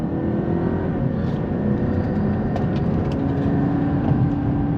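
A 2018 Volvo S60 T5 with the 2.0L engine and 74k miles accelerates from inside the cabin, a steady engine drone with road noise that holds evenly throughout.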